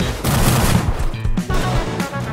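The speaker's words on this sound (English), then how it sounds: "I hear explosions." Loud, rapid explosions crackle and boom in the Turbo Dismount video game, a dense burst of blasts filling a couple of seconds with no talking.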